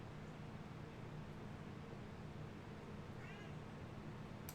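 A house cat lets out a single short meow partway through, faint against a steady low hum of background noise, with no speech around it.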